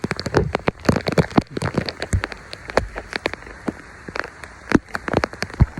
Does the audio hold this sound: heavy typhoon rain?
yes